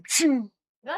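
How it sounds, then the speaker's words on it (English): A single sharp sneeze bursts out close by, followed by a short pause and a quick breathy vocal sound. "I'm gonna sneeze."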